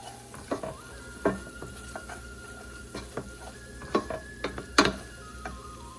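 Onion with a teaspoon of ají mirasol chili is stirred in a pan, with a soft low sizzle under intermittent scraping and clicking strokes of a utensil against the pan, close and fairly quiet.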